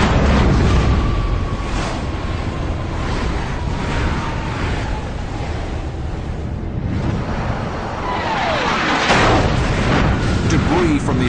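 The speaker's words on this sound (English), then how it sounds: "Page and Smith's missile slams into the MiG-17." Air-to-air missile exploding against a MiG-17 over North Vietnam: a sustained, loud roaring blast with rumbling, crackling debris and wind-like noise throughout, no clear pauses.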